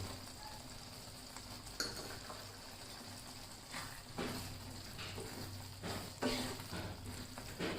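Gujarati gathiya sabzi sizzling softly in the pan while fresh coriander is stirred in, a low steady fry with occasional spoon scrapes and clinks, no voices.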